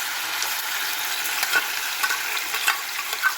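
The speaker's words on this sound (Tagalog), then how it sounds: "Ang sunod natin iprito ay ang ating pork." Pork sizzles steadily in a frying pan, a dense, even crackle of hot oil with a few brief louder pops and stirring scrapes, close and fairly loud, no voices.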